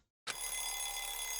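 After a brief silence, a bright, buzzing telephone bell in the video game Danganronpa starts ringing and rings continuously at a steady level, with no voices.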